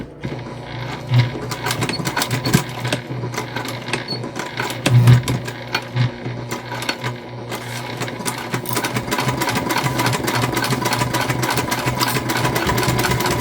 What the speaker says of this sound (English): And then we're just going to stitch it on, easy peasy